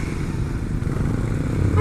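Dense December traffic in Naga, with motorcycle engines droning loud and close and a continuous low rumble building slightly toward the end.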